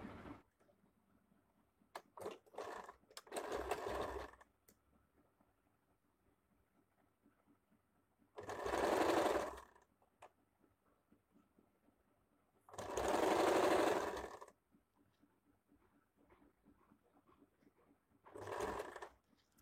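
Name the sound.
sewing machine stitching a nighty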